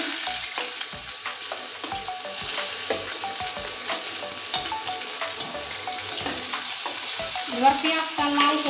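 Chopped onions frying with cumin seeds in hot oil for a Bengali eel and potato curry, a steady close sizzle broken by frequent spoon scrapes and stirring clatter, with crackles growing busier near the end.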